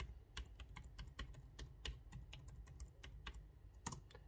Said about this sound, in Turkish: şu şekilde tuş sesi de, onu da göstermiş olalım